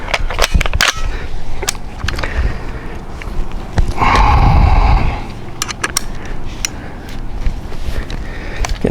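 AR-15 (BCM RECCE) rifle shots fired while zeroing an ACOG scope at 25 yards outdoors: several sharp close reports, a cluster early and more scattered later, with a louder rumbling stretch in the middle.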